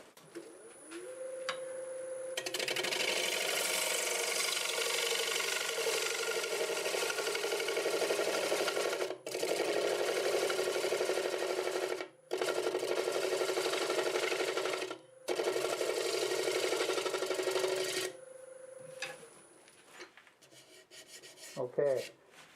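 A wood lathe spins a turned piece while a gouge blends the surface, producing long loud rasping cutting passes broken by short pauses, with quieter motor hum at the start and end.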